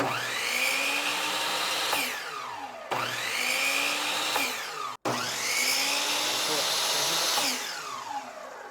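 A Stanley miter saw fitted with a TNT blade runs up in three bursts, each a loud whining motor rising to speed and winding down, close by, with a brief gap between runs.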